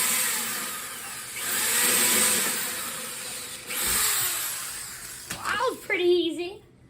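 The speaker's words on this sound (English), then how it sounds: "First, drill." A power drill grinds loudly and steadily into the body of a Farberware coffee maker for several seconds, easing off and surging again, before a few sharp squeaks and scrapes near the end.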